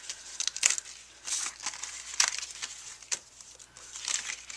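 Perforated paper flowers being popped out of a card sheet, quiet scattered crinkles and sharp little tearing snaps at an uneven pace, close by with no talk.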